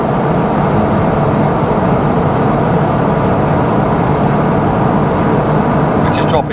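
Supercharged Honda S2000 engine pulling hard under acceleration, a loud, steady broadband drone filling the whole stretch, with a faint whine on top and a brief change near the end.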